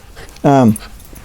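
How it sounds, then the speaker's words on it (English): A single short dog vocalisation, a tonal whining yelp lasting about a quarter second, close and loud against quiet room background. "He was barking at our neighbor"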